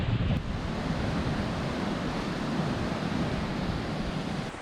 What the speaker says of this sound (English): Hope you can hear over the wind.